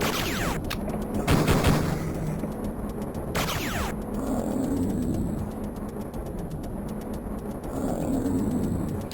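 Weapon fire in the shooter game Duke Nukem 3D, with a couple of sharp blasts early on over a steady, dense background of game noise and rumble, loud and close with no speech.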